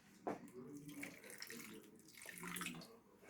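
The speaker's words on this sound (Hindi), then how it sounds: "अभी इसमें थोड़ा सा पानी मिला लें" Water splashes and pours in short bursts into a bowl of masala batter for Lahori fish fry, faint and close, with soft mixing sounds and no talk.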